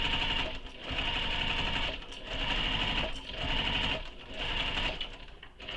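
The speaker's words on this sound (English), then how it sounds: "I'm leaving my stitch length at a longer stitch length because we're just base stitching" A sewing machine runs long basting stitches around the curved panel of a shoulder bag, its steady mechanical whir rising and pausing in short bursts about every second, close and loud with no talking.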